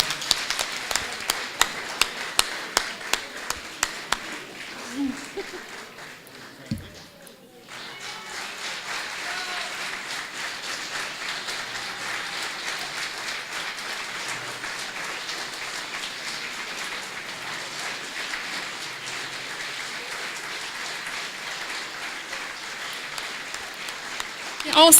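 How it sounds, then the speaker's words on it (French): A volunteers' appreciation evening audience applauds at length, with sharp individual claps at first, then a dense, steady wash of clapping that carries through to the end. "On s'applaudit, tout le monde, tous les bénévoles"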